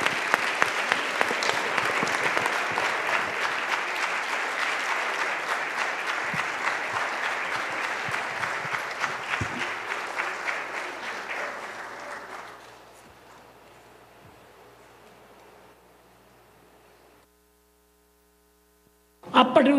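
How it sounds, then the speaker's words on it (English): A spiritual retreat audience applauds panelists on stage: steady, dense clapping from a crowd for about twelve seconds, then fading into a quieter patter and hum before silence and a brief noise at the end. "please join me in giving a round of applause for all our panelists"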